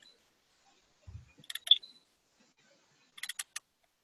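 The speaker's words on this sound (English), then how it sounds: "There's a lot of clicking happening." Computer mouse clicks in two quick clusters, a few sharp close taps followed by a faint thump, then another rapid run of clicks after a pause, in an otherwise quiet room.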